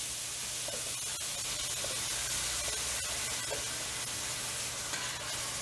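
Shrimp sizzling steadily in a hot pan with browned onions, a dense, even hiss and crackle with faint stirring scrapes, close and continuous, with no talking.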